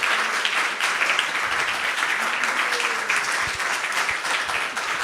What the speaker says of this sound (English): A big round of applause again for Yugal Kishore Prabhu.